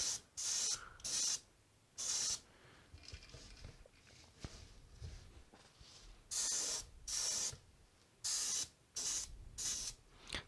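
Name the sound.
Badger airbrush spraying paint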